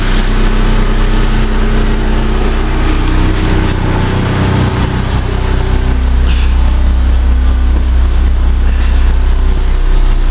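A 10,000 watt LP generator with an insulated cover runs outside a food truck, heard from inside as a loud, steady low hum and drone that continues unbroken throughout.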